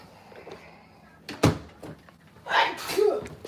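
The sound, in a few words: sneeze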